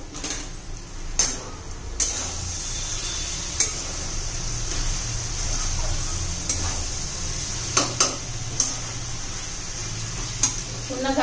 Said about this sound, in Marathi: आता आपण एकदा हलवून घेऊया.